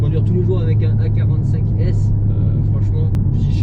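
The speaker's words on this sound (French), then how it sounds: "On fait quelques accélérations, c'est pour voir un peu ce que la voiture a dans le ventre" Mercedes A45S AMG sports car rated at 421 horsepower revving and pulling hard, a loud close engine drone holding steady throughout with speech over it.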